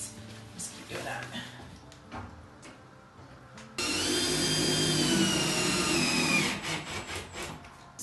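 A power drill drives screws through a 1x3 board into wall studs spaced 16 inches apart, with one loud sustained whirring burst in the middle, near and steady, between quieter stretches of workshop noise and brief speech.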